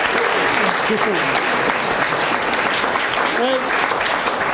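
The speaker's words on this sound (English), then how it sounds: "I want to give you a round of applause of my own" Steady, dense applause from a wedding reception crowd during a best man speech, sustained throughout, with a few voices audible over the clapping.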